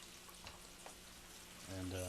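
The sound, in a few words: pancetta frying in a pan with crushed red pepper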